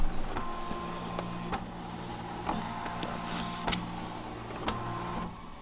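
An embroidery machine stitches a hat, running as a steady mechanical whir with sharp, regular clicks and taps near the microphone and no voices.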